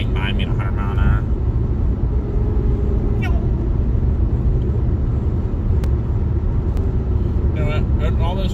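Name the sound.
cars flying by on the highway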